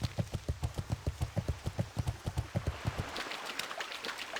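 Horse hooves clip-clop in World of Warcraft on a Classic-era island crossing, a brisk, even trot of loud hoofbeats that fades into splashing water near the end.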